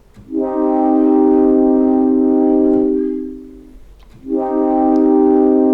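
Sustained harmonic tone from a ROMpler synthesizer patch swells in, holds, then fades smoothly as the filter closes, followed by a second note rising back in. No voices.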